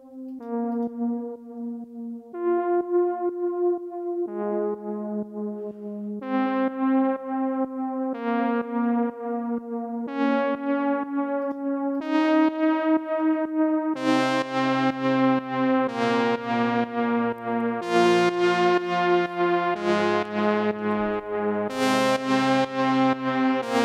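Electronic counter melody from a melodic house track, a bright synth playing a stepwise sequence of sustained notes that grows fuller and more layered with a deeper bass layer in the second half, loud and continuous.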